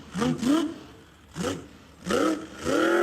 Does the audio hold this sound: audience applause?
no